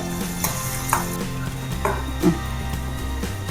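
Small onions and halved dried red chillies frying in a pan for Kerala jackfruit erissery, with a soft continuous sizzle and a few light clinks and stirs close by, and no talk.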